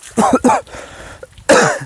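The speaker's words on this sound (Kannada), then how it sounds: "ಕೆಮ್ಮು ಸ್ಟಾರ್ಟ್ ಆಗ್ತಿದೆ" Two quick harsh coughs close by, a short pause with faint breathing, then another loud cough.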